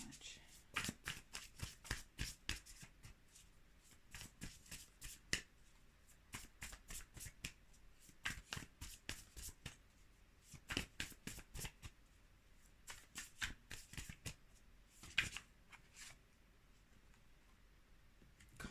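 Tarot cards shuffled for a general reading give rapid bursts of crisp, clicking riffs, repeated in quick clusters with short gaps over a long stretch, close to the listener.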